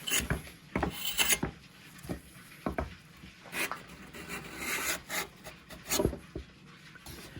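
A Veritas cabinet scraper drawn slowly across wood, making repeated close rasping strokes that lift wispy shavings, each pass a short scratchy burst with brief gaps between.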